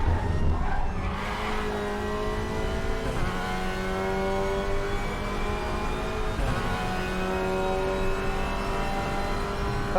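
Race car in the RaceRoom racing game with its wheels locked, engine droning steadily with harmonic tones shifting as it slows, a tire skid at the start, loud and continuous throughout.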